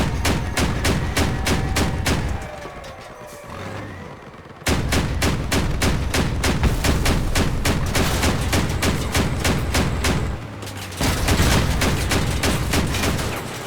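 Machine-gun fire in the Crossout vehicle combat game: dense, rapid automatic bursts rattle almost continuously, loud and close, with two brief lulls before the shooting resumes.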